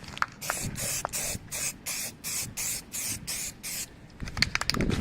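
A spray paint can lays a second coat onto a moped in about ten quick, even hissing bursts with short gaps between them, close and fairly quiet, ending in faint clicks and handling noises.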